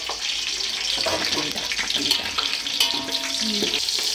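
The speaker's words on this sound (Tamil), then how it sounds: "பச்சை மிளகாய் நல்லா போட்டு நல்லா வதக்கின்னு இருங்க" Green chillies sautéing in a pan for biryani, a continuous hiss and sizzle of frying with occasional stirring scrapes, close and fairly loud, with no talk over it.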